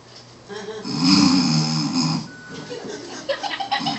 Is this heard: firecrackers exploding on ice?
no